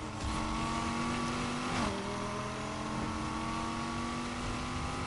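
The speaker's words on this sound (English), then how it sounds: "And the Ford GT has a V6. It's twin turbo V6." Twin-turbo V6 of a Ford GT supercar in the racing game Need for Speed Heat, droning loud and steady throughout with a sharp pitch dip near the two-second mark as it shifts, then climbing again.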